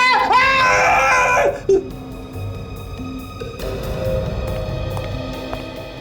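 A loud, strained human scream or shout bursts out for about a second and a half close by, then cuts off, leaving a low rumbling room hum with faint background noise, during a staged crime-drama interrogation test.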